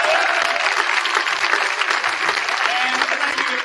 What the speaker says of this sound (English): sometimes you can nod your head a little bit to accept your applause as we switch places